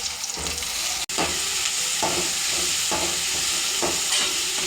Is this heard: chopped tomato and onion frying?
yes